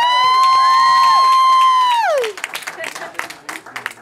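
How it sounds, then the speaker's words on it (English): A crowd at a winter talent show breaks into applause and cheering, with whoops and shouts following a sustained held tone that drops away; the clapping is loud and close. "let's give it up to Dante"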